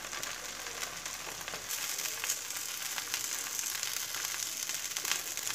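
Fasting dhirde pancake frying in oil on a hot pan, a steady close sizzle that runs continuously without any talking.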